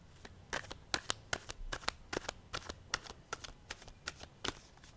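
Tarot cards being shuffled by hand, a steady series of crisp riffling snaps repeating close up and fairly quietly, with no voices over them.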